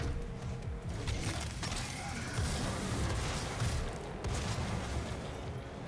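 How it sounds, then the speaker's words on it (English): Shotgun fire in the DOOM video game, heavy booming blasts blurred together in a loud, dense wash of combat noise with mechanical clatter, steady throughout. "shotgun."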